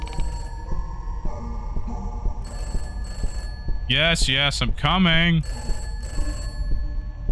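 A ringing telephone in a horror video game set inside a house keeps sounding in repeated bursts while someone speaks briefly over it, his voice loud in the middle.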